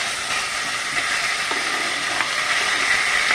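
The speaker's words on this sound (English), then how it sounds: "Browning some chicken." Chicken browning in a pan, a close, steady hissing sizzle with crackles throughout and occasional faint clinks, no talking.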